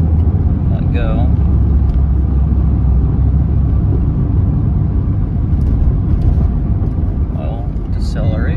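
A Mazda Protege running on cruise control fills the cabin with a loud, steady road rumble and engine drone that never lets up, while someone talks briefly over it.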